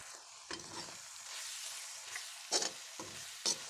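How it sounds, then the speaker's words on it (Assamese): A masala of tomato paste, green chilies, turmeric and garam masala fries in oil under a steady soft sizzle, broken by several close spoon stirs and scrapes against the pan, with no talk. "এনেকৈ ভাজি থাকিব যেতিয়ালৈকে মছলাৰ পৰা তেলটো বাহিৰ নহয়।"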